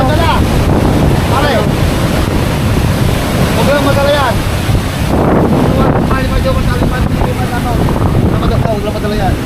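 Huge ocean waves crash against seaside houses amid strong wind, a loud continuous roar of surf and gusts buffeting the microphone, with people's voices shouting intermittently underneath.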